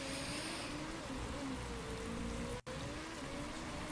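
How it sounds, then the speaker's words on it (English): Steady rain in the racing management game Motorsport Manager during a Munich race, a constant dense hiss of falling drops running throughout with a thin tonal hum beneath and one very brief dropout. "we can see that it's going to rain, rain, rain"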